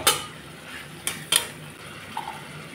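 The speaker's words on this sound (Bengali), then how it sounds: "শালগম আলুর সাথে এখন মশলাটা কষিয়ে নেব।" Spices fry with turnip and potato in a pan as a spoon scrapes and clinks against the metal a few times over a soft background sizzle, close by and without speech.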